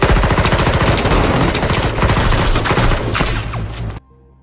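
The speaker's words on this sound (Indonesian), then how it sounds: "Baku tembak kembali terjadi di depan rumah salah satu warga setempat." Gunfire from a movie shootout in front of a house: rapid automatic bursts and overlapping shots, loud and dense, thinning out before cutting to near silence at the end, with no voices.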